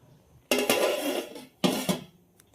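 A tawa griddle set down on a stove, with two sharp metallic clanks about a second apart, each followed by a brief ringing clatter, close and fairly loud.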